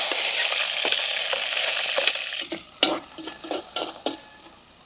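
Sliced onions and green chillies fry in hot oil for a chicken curry, a bright steady sizzle at first, then a spoon stirs with rhythmic scraping and clatter against the pan as the hiss eases.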